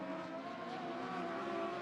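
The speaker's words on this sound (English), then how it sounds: "Whole gaggle of cars racing for third behind him." Dwarf cars race around the Sunset Speedway Park oval, their engines a faint, distant, sustained buzzing roar that holds steady for a couple of seconds with no voices.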